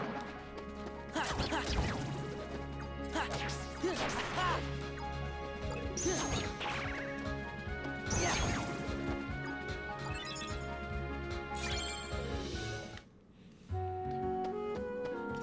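A thrown barrel smashes into enemies in Kingdom Hearts Re: Chain of Memories, giving several sharp crashing impacts spread over steady game music, with no talk.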